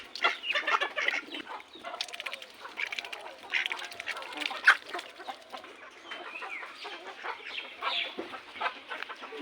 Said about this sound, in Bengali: হাঁস অপেক্ষায় আছে, তাদেরকে কখন খাবার দেওয়া হবে